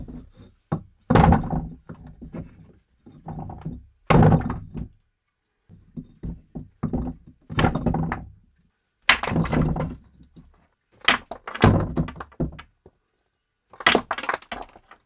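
One-shot underwater impact effects from a video game land as a series of separate dull, resonant thuds and knocks with silent gaps between them, some hits doubled in quick succession.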